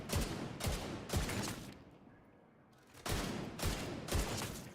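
Rapid bursts of light machine gun fire in a video game, Division 2, in repeated volleys, broken by a short lull before shooting resumes, punchy and close.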